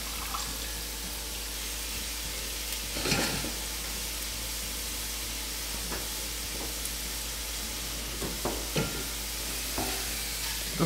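Potatoes frying in bacon fat in a pan give a steady, soft sizzle throughout, broken by a few brief stirring or scraping bumps, with no talking.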